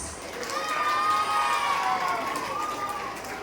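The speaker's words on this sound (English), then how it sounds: "Give them a big applause." An audience at a school annual day award ceremony cheers and shouts in a continuous wash of crowd noise, with high calls rising above it at moderate distance.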